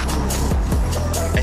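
Nissan Silvia S15 with a turbo engine, heard as a brief loud engine drone with quick rev swells and shifting pitch, close and steady for about a second and a half.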